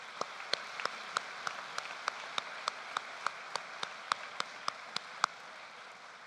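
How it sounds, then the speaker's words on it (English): Clapping at a high school commencement ceremony comes as a steady run of about twenty crisp, evenly spaced claps, fairly faint and without voices. "How about a round of applause for the three speakers and those two great songs?"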